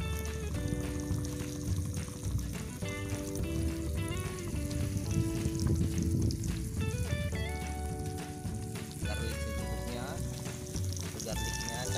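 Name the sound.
frying ingredients for grape sambal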